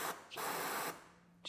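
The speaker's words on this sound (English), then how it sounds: "I'm going to spray some brake cleaner down the cylinder" Brake cleaner sprayed from an aerosol can down the cylinder of a gas-powered air compressor engine: two loud hissing bursts close by, separated by a short gap, with a brief third spurt starting at the end.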